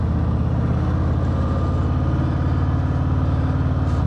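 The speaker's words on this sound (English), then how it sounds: "Pipes sound amazing." A Harley-Davidson FXFBS Fat Bob with the 114 engine rumbles through its exhaust pipes in a steady, loud, deep throb. The pulse stays even and close throughout, with no speech.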